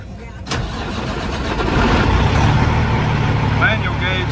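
A Cat C15 diesel truck engine cranks and starts close by, with a brief cranking burst followed by a steady loud idle rumble.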